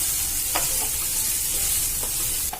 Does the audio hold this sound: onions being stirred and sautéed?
yes